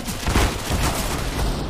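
Rapid scout sniper rifle shots in CS:GO ring out in dense, overlapping bursts over constant game noise, several sharp reports crowding the short stretch.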